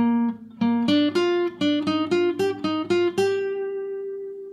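Lead guitar plays a Mixolydian lick, a quick run of about ten picked notes in an uneven rhythm, close and clear, ending on a long sustained note, with no talking.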